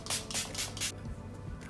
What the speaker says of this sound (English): I actually use like a spray bottle to spray on my toner